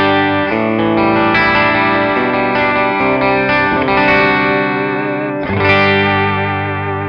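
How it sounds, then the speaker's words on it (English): A PRS Studio electric guitar played through a George Evans 30 watt amplifier, loud sustained chords ringing with a chorused, slightly driven tone and steady level throughout, no talking. "I'm running directly into the front end of a George Evans 30 watt amplifier, and it's a very clean sound"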